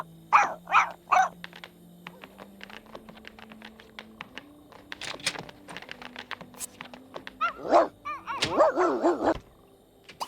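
Dogs in The Sims 2 barking and scuffling in short bursts, with clustered yelps early on and a louder flurry of barks near the end over a steady game hum and clicky interface sounds.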